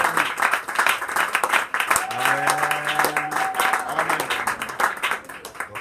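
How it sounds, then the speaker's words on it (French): Crowd of worshippers at a church service applauding and cheering loudly throughout, a sustained dense clatter of clapping while a voice speaks and sings over it. "Est-ce qu'on peut acclamer très fort pour la gloire de Dieu?"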